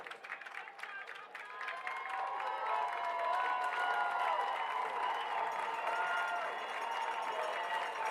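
A crowd roars and cheers at a high school football game between La Salle and St. Joseph's Prep, in the Philadelphia Catholic League 6A. The sound is a dense, steady wall of noise that grows louder after the first couple of seconds.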